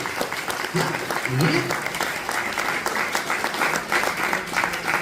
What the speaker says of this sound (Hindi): थोड़ा ताली तो बजा।